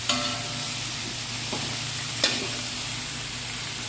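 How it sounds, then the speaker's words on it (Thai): Sliced sponge gourd is stir-fried in a pan, giving a soft, steady sizzle and a couple of light spatula scrapes, heard close and alone with no voices. "บวบนี้ก็เราก็ผัดไปเรื่อยๆจ้ะ ผัดจนกว่าบวบมันจะใกล้ๆสุกอะค่ะ"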